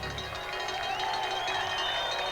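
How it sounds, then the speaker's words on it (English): A ski race crowd at Whistler in 1986 keeps up a steady roar of cheering, with a commentator's voice woven through the noise. "The crowd sensing that this is going to be very, very close."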